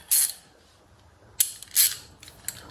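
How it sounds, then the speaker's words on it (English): A ratchet on a 12 mm extension turns in a few short clicking bursts with pauses between them, close and crisp. "So now we can move on to where we need our extension at 12 mil. And our ratchet."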